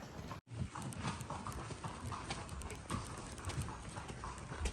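Quick, repeated clip-clop of horse hooves on a hard surface in Matheran, fairly close and continuous, with a brief drop-out near the start.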